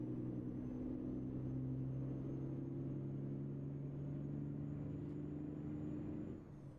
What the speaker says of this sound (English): this engine does sound pretty good